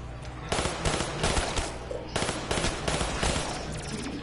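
Rapid bursts of machine gun fire in the Kino der Toten zombies map of a video game, loud and sustained with brief gaps between volleys, mostly without talk.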